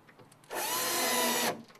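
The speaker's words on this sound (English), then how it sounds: "screw in using your pre-drilled holes" A power drill drives an M5 flathead screw into a cabinet in one continuous, loud whirring burst of about a second, close by and with no other sound.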